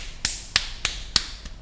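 A voice-free imitation of running in flip-flops: five sharp, evenly spaced slapping snaps, about a third of a second apart, close and crisp, with the last one softer.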